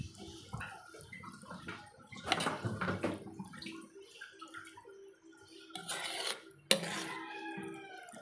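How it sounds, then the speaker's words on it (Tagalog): Creamy caldereta sauce with Nestle cream being stirred in a pot, soft wet swishing and clinks of a utensil against the pot, close and moderately quiet, with a sharp scrape near the end. "matapos kong ilagay itong Nestle cream, haluin na muli natin"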